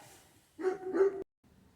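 A dog barks twice in quick succession, close and fairly quiet, in a garage after a Mercedes NTG4 radio head unit swap, with a brief silence following.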